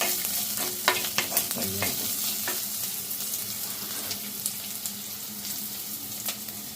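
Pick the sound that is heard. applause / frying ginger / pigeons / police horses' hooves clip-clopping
frying ginger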